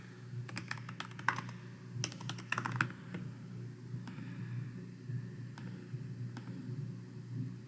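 Clattering of computer keys as someone types: short bursts of quick keystrokes, then a few isolated taps, close but fairly quiet, with no talk.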